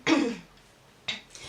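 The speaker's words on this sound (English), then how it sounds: "I always got a cough when I'm about to say something." A single short cough-like burst at the start, followed by quiet and a fainter throaty sound a second later, close to the listener.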